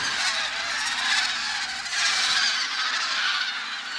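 A dense chorus of migratory geese and ducks honks continuously over reclaimed winter farmland at Seosan in Korea, many overlapping calls forming a steady, moderately distant clamor.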